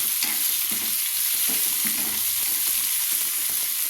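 Green masala paste of mint and sugar frying in a pan for green poha, stirred steadily with a spoon, a continuous sizzle with soft repeated scraping strokes, close and alone.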